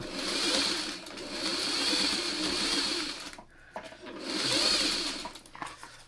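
Sewing machine fitted with a quarter-inch piecing foot, stitching quilt pieces in two sustained whirring runs separated by a short pause, close and clear.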